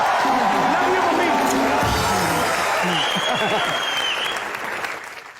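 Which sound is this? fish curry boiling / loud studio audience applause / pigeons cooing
loud studio audience applause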